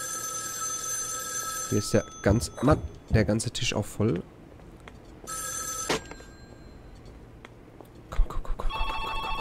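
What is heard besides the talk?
telephone ringing in video game Joe's Diner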